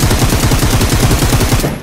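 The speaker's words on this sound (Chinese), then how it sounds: "这枪声都响好几分钟了" Rapid automatic gunfire in the mobile shooter Peacekeeper Elite, a loud, close, evenly spaced burst of shots lasting nearly two seconds before cutting off.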